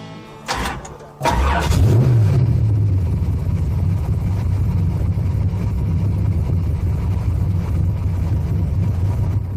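A Corvette V8 of nearly 800 horsepower, naturally aspirated with no nitrous or blower, fires up with a loud bark and rev after a brief whirr of the starter, then settles into a deep, steady, rumbling idle close by.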